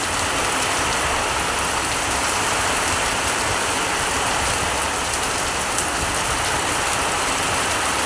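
Heavy rain pours continuously beside a house in a railway town, a dense, even hiss of drops striking surfaces that stays loud and unbroken throughout, with no voices.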